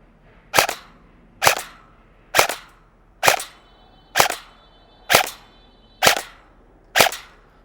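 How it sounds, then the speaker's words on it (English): Eight evenly spaced single shots crack from a KWA QRF MOD.1 airsoft AEG fired through a chronograph with the spring guide fully backed out, each a sharp, close, loud pop with a short decay. "we're going to be shooting it with the spring guide fully backed out. So let's go ahead and get our chrono test for that."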